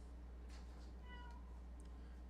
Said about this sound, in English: My cat is so whiny.